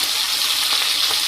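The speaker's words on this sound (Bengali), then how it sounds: "একটু ভাজার জন্য রেখে দেবো।" Fish frying in a pan, a loud, close, continuous hiss and crackle of hot oil with small spits, no voices.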